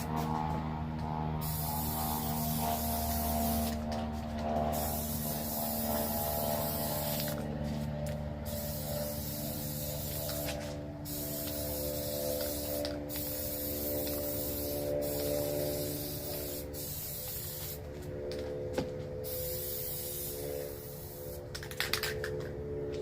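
A spray can lays down coats of Plasti-dip in repeated hissing bursts, each lasting a few seconds with short gaps between, close and fairly steady with no talking.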